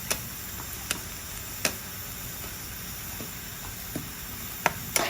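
Crab meat cooks in a pan for a thick crab noodle soup, a steady soft sizzle broken by sparse light taps and scrapes of a spoon stirring, close and quiet with no talking.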